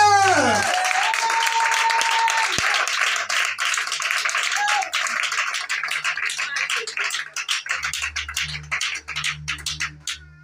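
A church congregation claps and cheers in praise of Jesus during a sermon on prayer. The dense clapping and voices are loud at first and then thin into scattered claps, and a voice speaks over them.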